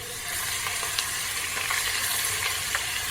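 Coarsely crushed garlic cloves and green chillies fry in hot oil with a soft, steady sizzle and a few faint scrapes of stirring, close but fairly quiet.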